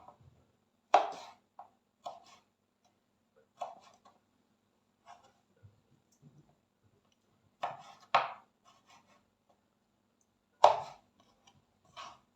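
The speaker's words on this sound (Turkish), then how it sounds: "şimdi bütün kayısılarımı sizlere gösterdiğim gibi doğrayıp bitireceğim" Apricots are chopped on a board with a knife, giving sharp, irregular thuds at close range in a quiet kitchen.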